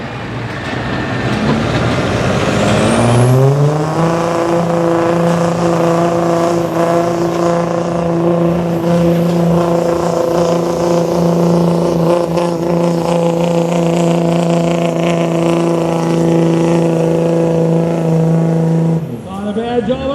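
Cummins diesel pickup, a daily driver at a truck pull, revs up and then holds a loud, sustained roar with strong rising engine harmonics for about fifteen seconds before dropping off abruptly at the end, with an announcer talking over it.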